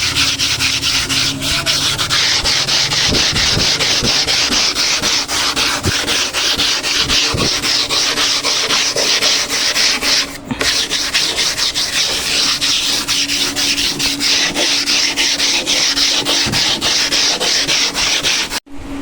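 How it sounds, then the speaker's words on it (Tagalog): Steady, continuous scraping of 100-grit sandpaper rubbed back and forth over a wooden door before priming, close up and loud, running without pause. "bago natin siya primeran, lihayin mo natin siya ng liha na 100"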